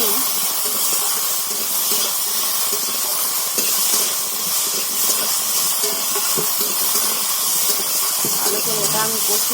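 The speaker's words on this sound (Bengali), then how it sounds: "আলু টমেটোটা একসাথে দিয়ে দিচ্ছি, আর ধনে পাতা একসাথে দিয়ে দিয়ে ভালো করে এটা আমি কষিয়ে" Potatoes, tomatoes and coriander leaves sautéing in a pan with whole cumin, a loud continuous hiss and sizzle throughout, close by, with faint stirring scrapes.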